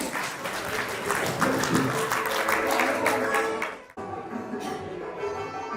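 An audience at an Arya Samaj Mandir gathering claps in sustained, dense applause for about four seconds, then it cuts to a quieter patch of scattered clapping and room noise.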